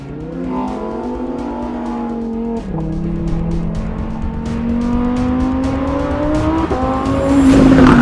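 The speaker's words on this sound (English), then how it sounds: "this is the Lamborghini Huracan Evo Spider." Lamborghini Huracan Evo Spider engine climbing through the revs with gear changes and rising pitch, ending in a brief tire squeal, loud and close.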